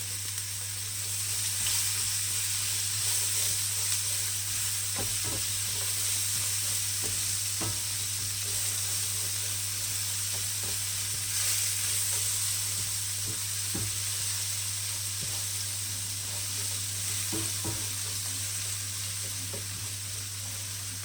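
Onion and chopped garlic fry in a hot pan, giving a steady, close sizzle throughout, with occasional soft clicks and scrapes of stirring and no talking.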